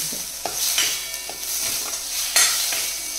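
Spice paste sizzles and fries in hot oil with bay leaf in the tempering, scraped by a spoon in repeated close stirring strokes against the pan, with no talking.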